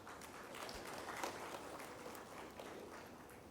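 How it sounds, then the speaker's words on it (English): Conference audience applauding during an opening keynote panel, a faint, even patter of many hands clapping at a distance, sustained for a few seconds without a clear peak. "A big round of applause to you as well."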